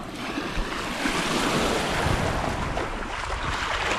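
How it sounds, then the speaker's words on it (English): Waves washing onto a small secret beach in Trinidad, a continuous broad roar of surf mixed with wind buffeting the microphone, loud and close with no talk. "Walk down here and you're on a secret beach."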